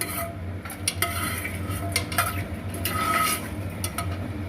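Chicken haleem with whole spices is stirred in a pot, with close metallic clinks and scrapes of a spoon against the pot over a low background hum and light sizzle.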